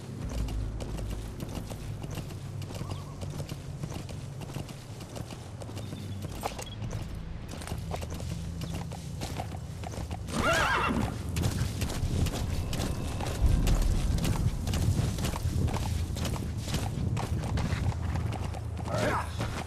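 Steady clip-clop of horse hooves at a walking pace in a video game, continuous and fairly close, growing a bit louder partway through, with faint mechanical noises around.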